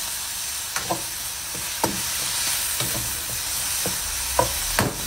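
Tomatoes and green chili sauté in a pan with a steady low sizzle, broken by sharp clicks and scrapes of a utensil stirring at irregular intervals, close and alone with no voices.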